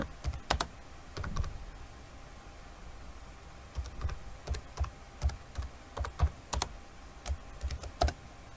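Computer keyboard keys click in short irregular clusters as commands are typed into a Linux terminal, with crisp close taps separated by brief pauses.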